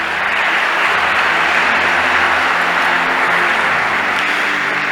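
A church congregation bursts into sustained applause, a dense, even wash of clapping that holds steady and loud for the whole stretch with no talking over it.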